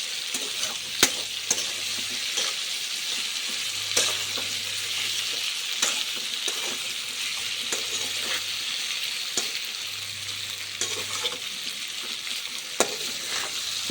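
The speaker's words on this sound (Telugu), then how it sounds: "ఇందాక హాఫ్ బాయిల్ చేసుకున్న పొటాటోస్ని ఆయిల్లోకి వేసి ఆ పసుపు ఉప్పు వాటికి పట్టేలా కలపండి" Half-boiled potatoes stirred in hot oil with turmeric and salt over a high flame, a steady broadband sizzle with scattered scraping clicks from the spoon, close and continuous with no talking.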